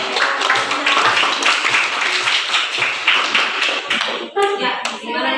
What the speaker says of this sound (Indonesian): tepuk tangannya untuk perwakilan dari kelompok 1.